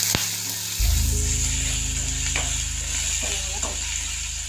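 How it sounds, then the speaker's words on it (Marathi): Curry leaves drop into a hot pan of onion and ginger garlic paste and set off a loud, steady sizzle up close, with faint stirring clinks under the frying. "यामध्ये ही कढीपत्त्याची पाने मी टाकत आहे, देखील थोडी परतून घेते."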